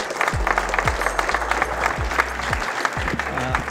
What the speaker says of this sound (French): qu'on peut applaudir Marc Alias